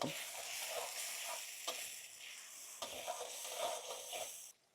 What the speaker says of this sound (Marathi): मसाले व्यवस्थित मिक्स करून घेऊ